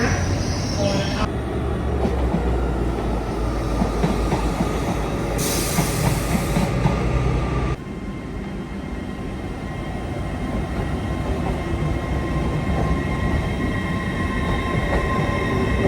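An LNER Azuma train pulls out of a station platform bound for Edinburgh, its loud, steady rolling rumble and wheel noise filling the platform with faint squeals, a brief high hiss partway through, and ambience continuing as it departs.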